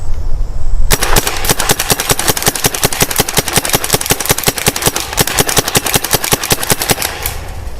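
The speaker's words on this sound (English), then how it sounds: "I've got the gun set to hopper, so let's just see how it shoots like that." A RAP4 468 paintball marker fed from an attached hopper fires a long, rapid, steady burst of close, loud pops, each shot evenly spaced and continuing for several seconds without pause.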